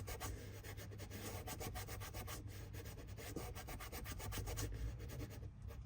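A plastic surface is rubbed and cleaned by hand, producing continuous rapid scrubbing strokes over a low, steady background hum. The rubbing stays close and faint throughout, with no voices.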